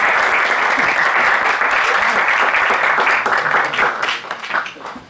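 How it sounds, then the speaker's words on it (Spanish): An audience at a university talk on optics research breaks into loud, steady applause welcoming a speaker, sustained for several seconds before fading toward the end. "acá de costumbre a quien va a hablar lo recibimos con un aplauso."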